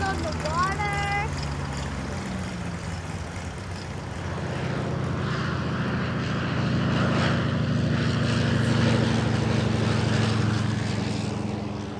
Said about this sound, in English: there's just hundreds of like float planes and bush planes, small planes